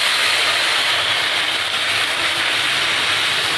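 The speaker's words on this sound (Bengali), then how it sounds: "এবার আমি জল দিয়ে দেবো।" Water poured into a hot pan of lightly fried banana with green chillies, a loud, steady broad hiss of steam and sizzling that holds throughout without a break, no talk over it.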